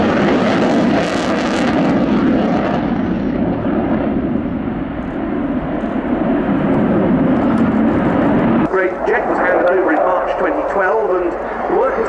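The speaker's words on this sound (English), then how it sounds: "And there's the aircraft, that was slow, with the very large dorsal air brake extended." A Ukrainian Air Force Su-27 Flanker jet makes a slow display pass with its large dorsal air brake extended. A loud, continuous engine roar carries throughout, and a voice talks over it.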